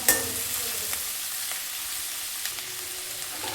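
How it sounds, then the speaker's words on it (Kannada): Onions frying in hot oil with green chillies and curry leaves for a North Karnataka puffed-rice tempering: a steady close sizzle with faint stirring clicks, no voices. "ನೋಡಿ, ಈಗ ಸ್ವಲ್ಪ ಈರುಳ್ಳಿ ಫ್ರೈ ಆಗಿದೆ."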